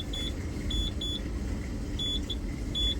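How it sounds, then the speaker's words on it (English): A Keyline 303 key machine gives short, thin electronic beeps when its probe touches the key blade, single and paired chirps repeating irregularly over a steady low motor hum. "So when I hear that beep noise"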